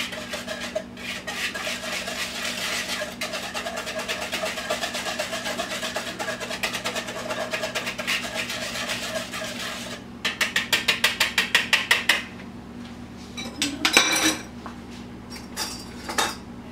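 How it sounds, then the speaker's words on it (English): Chocolate chess pie filling whisked by hand in a bowl: a steady, close rattling scrape of wire against the bowl, ending in a burst of quick rhythmic strokes and a few knocks. "This whisk seems to do this so well"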